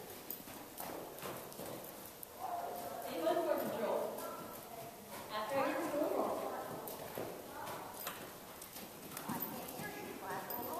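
Horse hooves clip-clop at a steady walking rhythm on hard ground, with people talking intermittently nearby.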